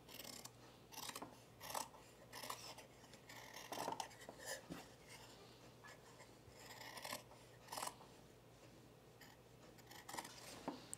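Scissors snipping through shirt fabric up to a stitch line while trimming a seam edge, a series of soft, close, irregular clicks and rasps, quiet and without talk.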